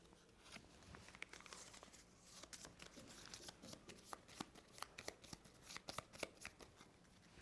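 Playing cards for a solo Snow Planner board game are shuffled close up, a quiet run of quick riffling snaps and soft card slaps repeating in irregular bursts across the whole stretch.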